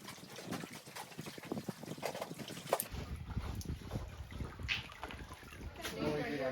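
Gravel and clay from a five-gallon bucket are washed through a screen set with water at a diamond-hunting state park, making continuous sloshing, trickling and gritty rattling, with a voice talking over the work.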